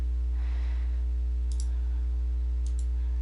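A computer mouse clicks twice, faint and close, during bookkeeping software work, with a steady low hum behind and no talking.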